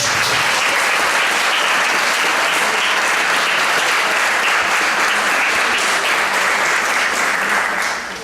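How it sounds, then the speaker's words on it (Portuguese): Sustained applause from a church congregation fills the whole stretch, a dense steady roar of many hands clapping at close range that fades slightly at the very end. "Quem pode dar uma salva de palmas aí?"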